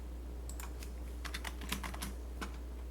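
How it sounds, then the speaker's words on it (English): Typing on a computer keyboard during a numerical methods lesson, a quick irregular run of light close key clicks over a low steady hum, with no voices. "I just cannot type today"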